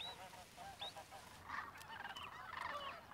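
Canada geese calling in the wild, a few scattered honks near the start and then a denser, louder burst of overlapping honking later on, set against steady outdoor background noise.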